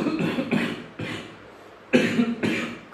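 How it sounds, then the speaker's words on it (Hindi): A person coughs several times in quick bursts, close and fairly soft, with short pauses between. "खांसी की वजह से"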